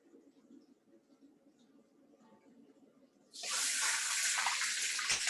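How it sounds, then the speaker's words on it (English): Cooking oil left from caramelizing onions for chow mein is poured out of a wok. After a quiet, murmuring stretch, a sudden loud, steady hissing rush breaks in and holds to the end. "Extract the oil, we pour it away."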